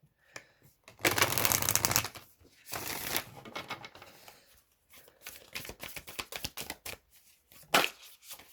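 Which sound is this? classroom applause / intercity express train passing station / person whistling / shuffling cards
shuffling cards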